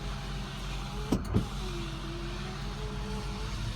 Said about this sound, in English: got a rear sliding window